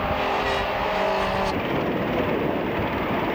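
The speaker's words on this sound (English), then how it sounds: "Delahunty putting the moves now on the 24 car, and that is Paolo Sessi in his Honda Integra" Touring saloon cars, including a Honda Integra, race at Silverstone in a 1999 National Saloon Cup round, a dense roaring engine wash that stays loud and steady, with a brief higher engine note early before the blend of passing cars.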